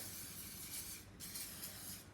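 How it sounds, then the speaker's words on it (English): Cooking spray hisses from a can into a non-stick pan in a home kitchen, a quiet, steady two-second spray with a brief break halfway through. "So I'm just going to give it a spray. It's a non-stick pan this, but even still, I still think you should spray it."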